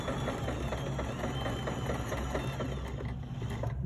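A sewing machine stitches a quilt block with a quarter-inch seam, running in a fast, even, close whir of needle strokes that continues without pause and without talk.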